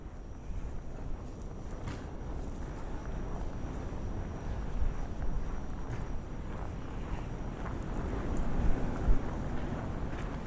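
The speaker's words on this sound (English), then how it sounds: "So the wind is 90 kilometer per hour sometimes, but steadily 60 kilometer per hour, which is a lot of wind." Strong, steady winter storm wind gusts through Toronto during heavy snow, a continuous loud rushing roar buffeting the microphone, with the gusts swelling now and then.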